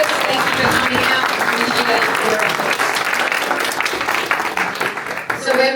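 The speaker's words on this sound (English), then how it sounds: "I guess round of applause again for all our candidates" A crowd applauds candidates at the close of a political candidate forum, with steady, dense clapping filling the room for several seconds without a break.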